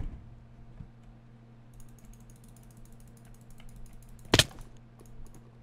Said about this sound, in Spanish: le estoy spameando el clic y nada